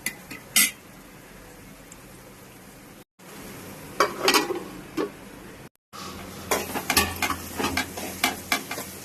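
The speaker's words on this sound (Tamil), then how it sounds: "வெங்காயம் தக்காளி நல்லா வதங்கிடுச்சு." Onions and tomatoes soften in a pan for a soya chunk curry, giving a faint, steady sizzle broken by scattered clinks and scrapes of a spoon stirring against the pan, with no voices.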